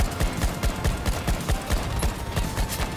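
Rapid bursts of automatic gunfire crackle through a multiplayer shooter match, dense overlapping shots at moderate distance with no voices over them.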